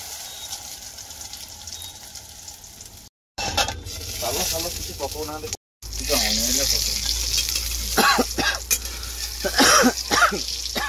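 Egg omelette frying in hot oil in a home kitchen, a continuous crackling sizzle broken by two brief dropouts, with coughing and voices over it later on.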